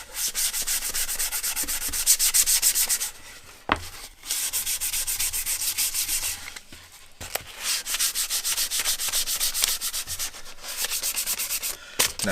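Sandpaper rubs lightly over the bevels of wooden form blocks cut for a Zenith 701 aircraft fuel tank, making a steady, close, rasping stroke that runs on and off in long passes with two brief breaks.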